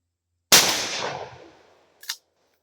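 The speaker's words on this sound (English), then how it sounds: "Now I'm going to shoot the next box that's standing up." A Savage Stevens pump shotgun with a full turkey choke fires a single loud, close blast at a standing box, its roar decaying over about a second, followed by a brief sharp clack.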